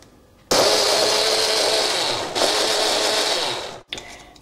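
A blender blitzing olive oil and balsamic vinegar, starting abruptly with a loud whirring motor drone that runs steadily for about three seconds, briefly dipping once, then cutting off, close up with no talking.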